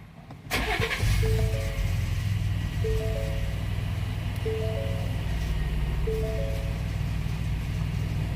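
A Ford Expedition Max 3.5L engine cranks and catches after a brief moment, then settles into a steady idle while a repeating electronic chime beeps several times.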